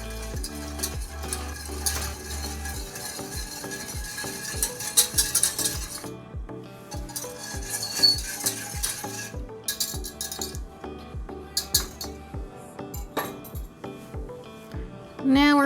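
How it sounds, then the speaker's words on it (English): A whisk beats sugar and salt together in a bowl for a banana cream pie, making a fast, regular run of scraping clinks against the bowl that pauses briefly partway through and then keeps going for over fifteen seconds. "Now I'm gonna whisk this together."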